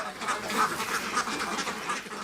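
Ducks quack on a duck farm in Rajshahi, a busy overlapping chorus of short nasal calls, moderately loud and continuous.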